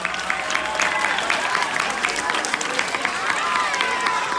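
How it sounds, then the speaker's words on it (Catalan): Audience applause at a school music day celebration, a steady dense clapping that fills the whole stretch, with a few cheers and crowd noise mixed in. "si us plau, un aplaudiment per en Joan, el tècnic."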